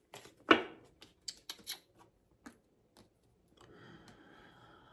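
Tarot cards being shuffled by hand make a few sharp, scattered flicks and taps close by, followed by a soft rustle near the end, quiet with no talking.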